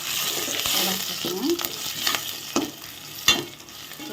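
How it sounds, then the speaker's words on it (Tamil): Ingredients sautéing and being stirred in a frying pan, with a steady sizzle and a few scraping strokes of a spoon against the pan, heard up close with no talk. "இது வந்து நல்லா வதங்கட்டும்"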